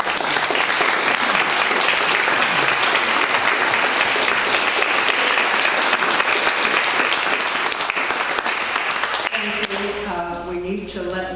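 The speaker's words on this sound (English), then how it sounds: "How about a round of applause for" Broad, steady audience applause fills the room for about nine seconds at a church Sunday forum, then fades as a voice begins speaking over the tail.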